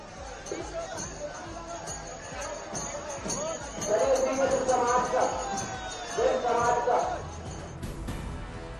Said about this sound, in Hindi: बड़ी संख्या में मंदिर में उमड़ी श्रद्धालुओं की भीड़